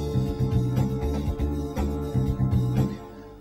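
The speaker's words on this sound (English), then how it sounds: "there's one rogue note in the first chord." Chords played on a Roland XP-80 synthesizer, the first chord carrying a single wrong, clashing note; sustained layered tones change chord roughly every second, loud and steady with no voices.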